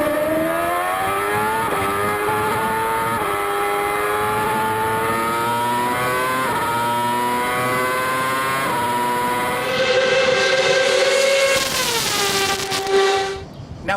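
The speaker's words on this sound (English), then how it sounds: "Before the car reaches the first corner behind me, it's traveling at over 300 kilometers per hour." A Williams FW33 Formula One race car screams past at over 300 km/h, its high engine note climbing through rapid gear shifts, then surging louder and dropping in pitch as it passes close by.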